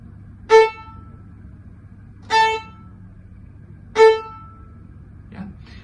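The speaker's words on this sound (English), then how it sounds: "we will do violin staccatos" Three short, detached violin notes, each with a sharp bite and quick release, played evenly spaced over a faint room hum.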